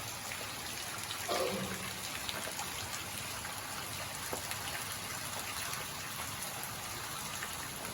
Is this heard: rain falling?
yes